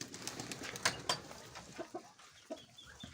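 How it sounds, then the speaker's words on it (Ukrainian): Soft bird sounds and handling noises come from a Mykolaiv pigeon held in someone's hands, as brief faint rustles and low murmurs over a quiet background. "Ну, красивий голуб в руках такий."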